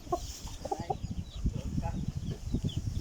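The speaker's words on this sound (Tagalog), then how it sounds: "Ang magandang klaseng manok to. Pambreed." Chickens clucking and calling softly against a busy outdoor background of low rumbling and scattered noise.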